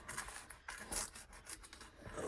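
Old, dry paper from a 1958 botanical book crackles and rustles as it is pulled out, a soft, close, continuous crinkling with small bursts, faint overall and without speech.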